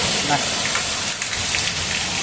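Hail and heavy rain beat down in Hyderabad, a brief, close, steady patter of dense drops hitting surfaces with a few sharper taps.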